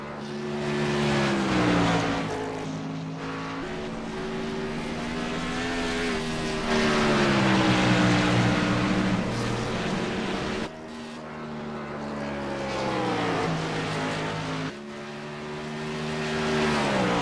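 Race cars at Dover International Raceway roar past with engines rising and falling as they shift gears, and the loud surging passes repeat again and again.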